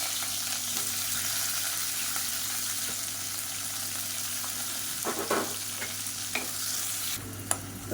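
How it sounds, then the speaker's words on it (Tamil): Onions browning in oil with whole spices such as cardamom, a steady close sizzle under a broad hiss, with a few scraping stirs and clinks toward the end and no talking. "இப்போ வெங்காயம் நல்லா ப்ரௌன் கலரில் வதங்கிடுச்சு"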